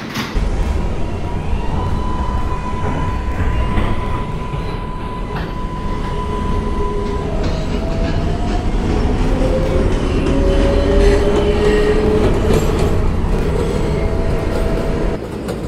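An R142A subway car on a Woodlawn-bound 4 train rumbles steadily along the track, with thin wheel squeals rising and sliding over the continuous roar, close and loud throughout, no talk.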